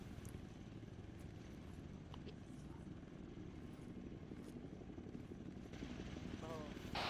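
An Arma 3 military helicopter drones in a steady, low rotor rumble throughout, moderately loud and constant, with faint voices and scattered game noises over it.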